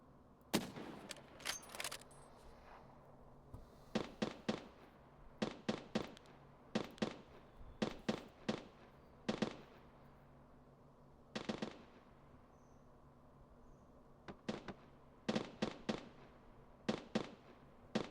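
Distant gunfire from a fight at the sawmill in the video game Escape From Tarkov crackles in short, sharp bursts of several rapid shots each, separated by quiet gaps, faint and far off with no talking.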